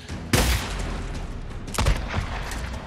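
Two loud, heavy gunshots from the game Days Gone, about a second and a half apart, booming over a steady rumbling background, with a fainter third shot trailing after the second.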